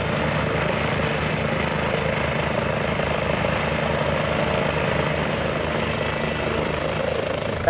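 A helicopter, 72 Echo X-ray, flies near Van Nuys north of Los Angeles, its steady rotor thump and engine drone loud and continuous throughout with no pauses.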